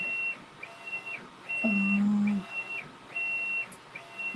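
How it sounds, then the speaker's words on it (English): A high electronic beep repeats in steady pulses, joined midway by a lower, louder buzzing tone, with faint room noise between. "What is beeping?"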